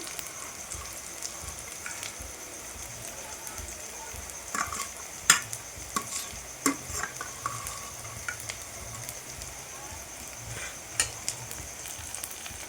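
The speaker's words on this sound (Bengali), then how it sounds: "পেঁয়াজটা হালকা করে ভেজে নেব তো এর মধ্যে লঙ্কাটাও দিয়ে দেবো" Onion and green chili fry gently in a pan, a soft even sizzle broken by sharp spatula scrapes and taps against the pan at irregular intervals.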